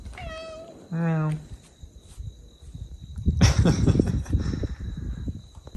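A cat meows close by, one short mew followed by a longer pitched call, then rustling, shuffling handling noise and a steady high electrical whine fill the rest.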